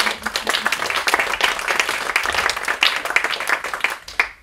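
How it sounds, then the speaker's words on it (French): Audience applause at a live presentation, a moderate crowd clapping in a lively, uneven burst that stays fairly steady and then thins out toward the end. "on peut l'applaudir s'il vous plaît"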